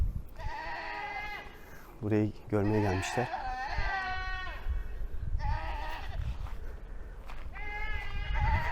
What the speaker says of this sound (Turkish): çok fazla keçi sesi var şu an